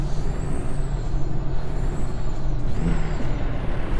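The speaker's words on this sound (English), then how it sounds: "Why is everybody hitting the brakes up here?" A truck's air brakes in American Truck Simulator, a 600HP CAT-powered rig, give a loud steady hiss with a whistling high tone that rises and dips over several seconds, alone and close.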